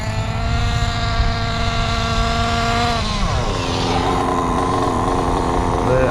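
Nitro engine of a Kyosho Inferno NEO 3.0 RC buggy running at about two-thirds throttle during break-in, a loud, steady buzzing whine that drops in pitch partway through and then holds, with no talk.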